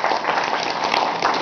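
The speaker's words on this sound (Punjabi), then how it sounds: "ਮਨਿੰਦਰ ਜੀ ਲਈ ਤਾੜੀਆਂ ਹੋ ਜਾਣ" An audience at an Art of Living course for Punjab railway police applauds, giving a loud, even stretch of many hands clapping together without pause.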